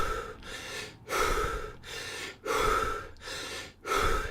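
A person deliberately hyperventilates, taking rapid, heavy, forced breaths in a steady rhythm of about six loud inhales and exhales, close and with no speech.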